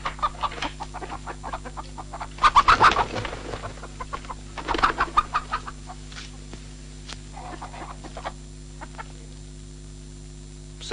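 Chickens cluck in a rural farmyard, with two louder bursts of quick clucks close by and scattered softer clucks around them, over a faint steady background hum.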